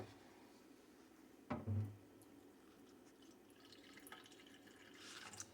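Water is poured into a half-cup measuring cup while making a chicken casserole, heard as one short splashing burst over a quiet kitchen background.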